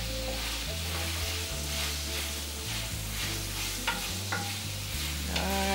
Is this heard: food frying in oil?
yes